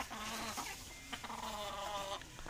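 Hens in a backyard coop cluck and croon in a steady, close chorus, with a few sharp squawks breaking through, no voices.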